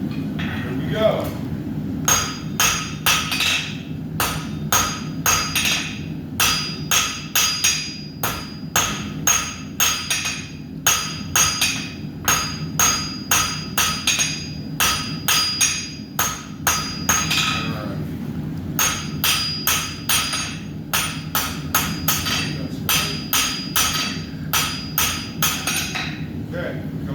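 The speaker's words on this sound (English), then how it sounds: "I've started to forge a little bit of a square out of the round, and then on the second heat, I started to work that taper out" A blacksmith hammers a hot round steel bar on an anvil to forge a square taper, loud ringing blows in quick rhythmic runs separated by short pauses, with people talking intermittently.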